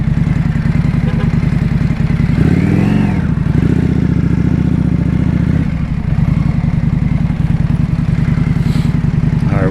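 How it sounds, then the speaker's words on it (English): A 2025 Indian Scout Bobber fitted with a Vance & Hines exhaust rumbles loudly and steadily while riding, with a brief rev rising and falling near the start and the engine note holding close throughout. "after putting the Vance&Hines on, much more nicer sounding of a ride"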